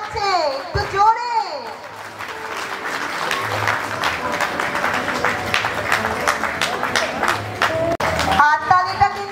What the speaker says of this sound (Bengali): হাততালিটা কিন্তু ভীষণ আসতে হয়ে যাচ্ছে, এটা একটু জোরে চাই